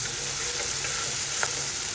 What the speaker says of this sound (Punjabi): ਆਪਾਂ ਲਾ ਰਹੇ ਹਾਂ ਹੁਣ ਦਾਲ ਨੂੰ ਤੜਕਾ